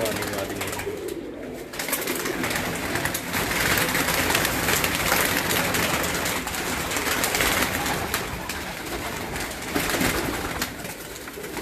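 Pigeons coo in soft, repeated throaty rolls from a rooftop loft, close and continuous, while someone talks over them throughout.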